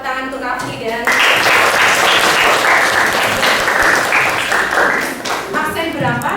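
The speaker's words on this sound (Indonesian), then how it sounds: "Beri tepuk tangan untuk Rafli" Classroom applause for a student breaks out loud and sustained, a dense wash of many hands clapping at once, with a teacher's voice heard briefly before and after.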